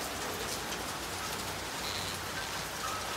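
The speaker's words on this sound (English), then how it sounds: "So the rain has let up a little bit." Steady rain falling outdoors, a dense continuous hiss of drops on surfaces at even loudness throughout, with no voices.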